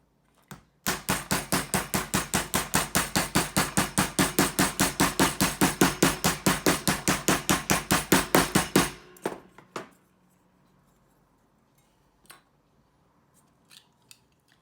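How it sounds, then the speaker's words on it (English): A hammer pounds a pop can flat with about forty fast, evenly spaced, sharp metallic strikes. The blows are loud and close, then stop, followed by a few scattered light taps and quiet handling. "I took my hammer and I just tamped out the lump in the inside"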